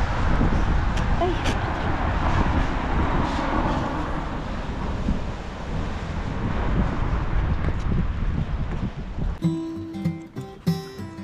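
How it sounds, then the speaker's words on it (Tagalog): Strong wind buffets the microphone outdoors on a Madrid street, a loud continuous roar for most of the time before it gives way to quieter street sounds at the end. "Oh, ang lakas ng hangin."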